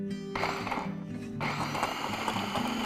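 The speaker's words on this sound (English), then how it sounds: "I'm going to add all of this to the food processor, but I'm going to give the garlic a little bit of a head start." A food processor pulses briefly on garlic cloves, giving a loud whirring motor burst that cuts out and then restarts for a second, steady run of chopping.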